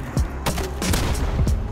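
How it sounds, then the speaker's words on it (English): Gunfire in the video game Modern Warfare Remastered, a quick series of sharp booming shots in close succession, loud over constant background game noise. "Hunter, shoot!"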